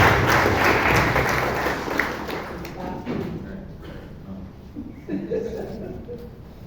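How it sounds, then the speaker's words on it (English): A Toastmasters meeting audience in Bangalore gives a round of applause: loud, dense clapping that starts at full strength and gradually thins and fades, with some voices in the room. "let's give Ganesh by a good round of applause"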